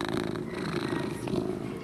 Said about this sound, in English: He's maybe the loudest purring cat I've met.